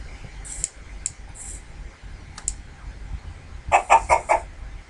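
Chickens in a Minecraft-style game cluck in short scattered bursts, then a quicker run of several clucks near the end, fairly close over a faint low background hum.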